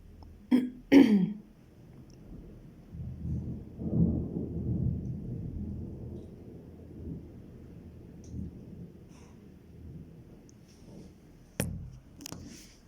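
Thunder rolls low and long through an electrical storm in Querétaro, with a couple of sharp nearby cracks at the start and again near the end between softer rumbling.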